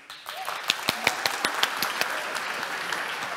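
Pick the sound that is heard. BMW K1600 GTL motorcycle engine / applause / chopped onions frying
applause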